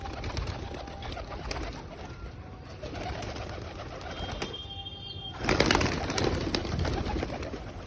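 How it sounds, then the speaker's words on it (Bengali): Madras pigeons coo softly at close range in a loft among other pigeons, the low calls repeating over a steady background hum, with a brief flurry of noise partway through. "এখানে সব ম্যাড্রাস পায়রা আছে"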